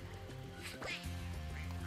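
A duck in the Spyro the Dragon video game quacks once, clearly and at moderate volume, over a steady droning background of game music.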